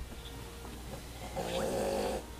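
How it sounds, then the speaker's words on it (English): A single rough snore rumbles close by against a quiet, humming background, swelling and fading over about a second. "You snore so loud."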